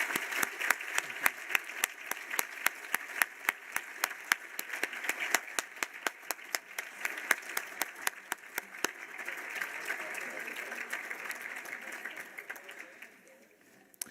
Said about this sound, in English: Let's give the London family a well-deserved round of applause